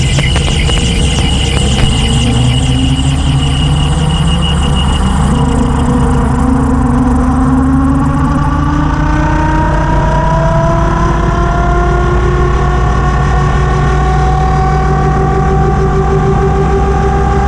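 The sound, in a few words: gyrocopter engine power increasing during takeoff roll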